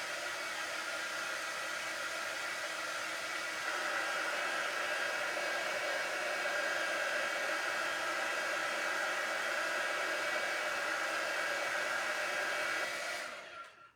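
A hair dryer runs steadily to quick-dry a homemade craft piece, a loud constant whooshing blow heard alone for about thirteen seconds before it cuts off.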